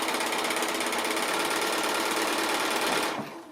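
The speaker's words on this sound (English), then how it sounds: "So I'm going to chain piece down these bits here." A sewing machine chain piecing quilt block pieces for a Contrary Wife block, running in a fast, steady, close whirring stitch for about three seconds before stopping abruptly.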